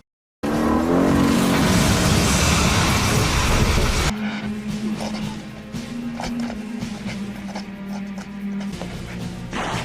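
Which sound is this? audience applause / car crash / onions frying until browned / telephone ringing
car crash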